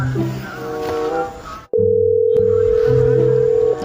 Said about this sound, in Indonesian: mending telepon si Acep.